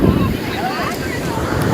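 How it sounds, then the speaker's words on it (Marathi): Sea waves at Kunkeshwar beach on the Konkan coast make a steady, loud surf roar blended with wind gusting against the microphone, continuous throughout. "बघू शकता एकदम भारी भारी समुद्राच्या लाटा, व्हाईट व्हाईट समुद्राच्या लाटा, फेसाळलेल्या लाटा आहे आपल्या बघू शकता इथं"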